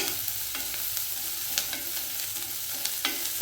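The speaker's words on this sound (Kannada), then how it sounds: "ಅದು ಈರುಳ್ಳಿ ಜೊತೆ ಫ್ರೈ ಆಗಬೇಕು." Beetroot and onion fry in oil in a pan, a continuous close sizzle with repeated stirring scrapes and clicks of a spoon against the metal, no voices.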